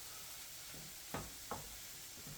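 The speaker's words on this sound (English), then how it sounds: "I'm going to stir my beans up a little" A spoon stirs beans in a pan that sizzles quietly underneath, with two sharp scraping knocks against the pan about a third of a second apart and softer scrapes in between.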